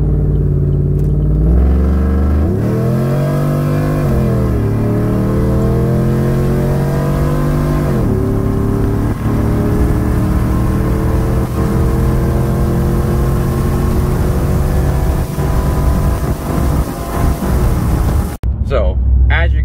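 A cammed LT 5.3 V8 car with long tube headers on 93 octane accelerates hard on a highway, its engine note climbing through gear pulls with brief dips between shifts, loud and continuous, ending in a short break near the end.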